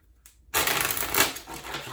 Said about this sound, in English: going to give these cards a shuffle